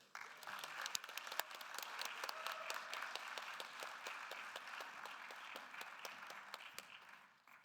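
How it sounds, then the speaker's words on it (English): An audience at a literary poetry reading gives sustained warm applause for a poet. Many hands clap steadily for about seven seconds before fading out. "Everyone, please give a warm round of applause for Kimiko Hahn."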